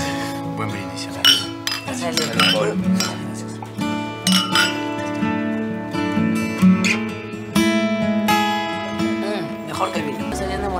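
Glasses clink several times in a toast at a restaurant table, a series of bright ringing taps spread across the span, mixed with people talking and a sustained musical background.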